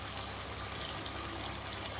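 Hot oil poured into gongura (sorrel leaf) chutney, a soft continuous pouring and liquid hiss, quiet and steady for the full short stretch with no talk.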